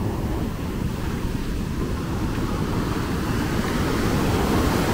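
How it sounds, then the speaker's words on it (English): Heavy surf churned up by Hurricane Ian, a continuous loud roar of breaking waves with wind buffeting the microphone, steady and unbroken throughout. "those are very surfable waves"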